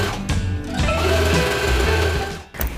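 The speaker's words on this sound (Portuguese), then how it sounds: "Eu vou fechar o forrinho aqui com uma costurinha." A sewing machine stitches a fabric lining closed on a small bunny-shaped patchwork bag, running in a steady, loud, close mechanical whir for over two seconds before stopping briefly and starting again.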